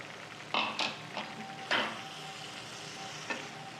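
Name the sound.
onion-tomato paste with cashew paste frying and stirred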